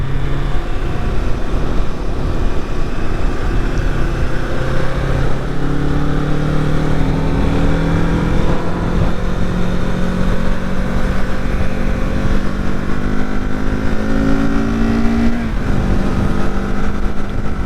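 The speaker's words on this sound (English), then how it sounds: "So I'm getting a lot of wind noise with this because it's a naked." Steady wind roar on a 2021 Kawasaki Z650 naked motorcycle at highway speed, broadband rush blended with the engine's droning hum and gear-shifting pitch sweeps, continuous and loud throughout.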